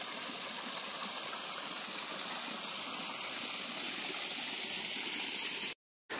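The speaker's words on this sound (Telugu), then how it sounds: "చిన్న చిన్న వాటర్ ఫాల్స్ కూడా ఉన్నాయన్నమాట" Small waterfalls in a dense forest near a tribal village rush in a steady, unbroken wash of water that stays even and close, then cuts out briefly near the end.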